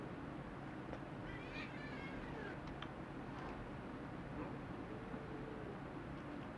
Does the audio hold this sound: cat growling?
yes